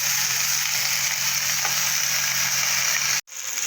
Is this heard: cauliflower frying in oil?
yes